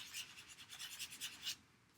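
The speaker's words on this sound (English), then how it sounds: "I have a little sanding block and get that off" A small sanding block rubbed briskly back and forth on a stamped paper card to remove an ink smudge, giving about ten close, rhythmic raspy strokes that stop abruptly, with no talking.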